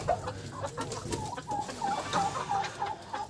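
Young poultry chicks squawking on a farm, with repeated short, shrill calls rising and falling in quick bursts, moderately faint against a quiet background.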